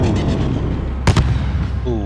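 A grenade blast in the Call of Duty Modern Warfare video game, a short loud burst with a sharp double crack, surrounded by battle noise and shouted voices.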